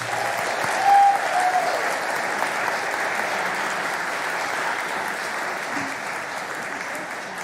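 Sustained applause from a crowd, steady and full throughout, with a brief whistle near the start.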